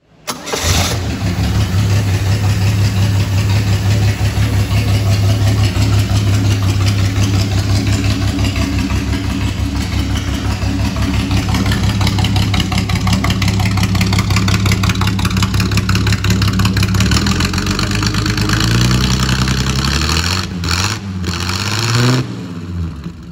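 Furlan Type 51, a Brazilian-built Bugatti replica with a 4.1 engine and five-speed gearbox, idles steadily and loud and close with a low, even rumble, then blips and revs briefly near the end.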